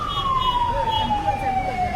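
An ambulance siren wails loudly with a slowly falling pitch over steady traffic noise on a waterlogged main road after heavy rain.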